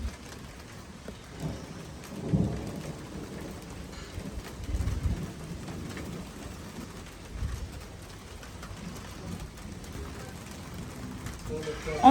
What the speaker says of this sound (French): On entend le tonnerre, puis on commence à sentir la pluie s'en venir.